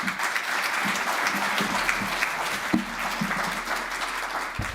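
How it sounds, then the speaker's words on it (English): Audience giving a warm round of applause to welcome a speaker at an art and metaverse talk; continuous, fairly loud clapping throughout with a few sharper claps, alone without speech. "please welcome her with a warm round of applause, please"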